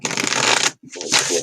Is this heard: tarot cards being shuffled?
yes